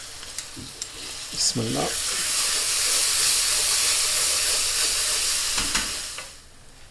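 Onions, ginger and garlic fry in a pot for a lentil daal and vegetable bhuna, giving a steady close sizzle with a stir and a clank near the start, then hissing until it fades at the end.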